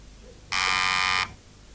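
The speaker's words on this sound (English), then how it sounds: "Somebody's gone for the buzzer." A quiz show answer buzzer gives a single loud, steady electronic tone of just under a second, clearly above a quiet room background.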